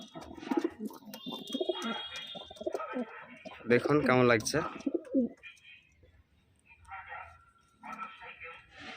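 A male Kalsira pigeon gives soft, throaty coos in a short burst, close by, while someone talks over and around the calls.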